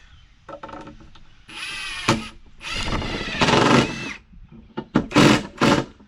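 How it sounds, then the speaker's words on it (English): A power drill drives screws into a wooden nesting box in a shed, several close, loud whirring bursts of a second or so each, with short pauses and handling knocks between. "I'm just tacking this together here with a few screws"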